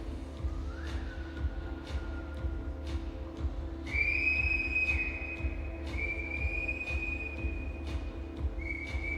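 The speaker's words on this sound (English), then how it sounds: "There's some whistles coming from the audience." Audience members at an air rifle mixed team medal match whistle in several high, sustained calls, some rising, others held steady, over a low hum of hall noise and distant crowd murmur.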